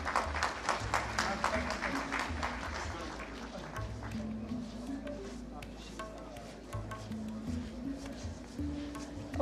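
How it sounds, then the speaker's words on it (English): An audience at an AI research symposium applauds continuously for several seconds, a dense steady patter of many hands with a spoken voice over it. "Please give them a huge round of applause."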